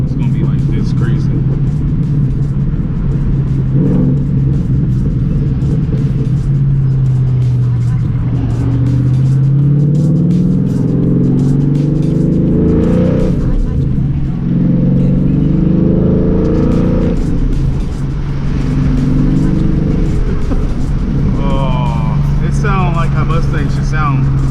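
A Ford Mustang with a loud aftermarket exhaust setup rumbles and revs continuously for about 25 seconds, its deep engine note swelling and dipping as the throttle is worked, while a person talks over it throughout.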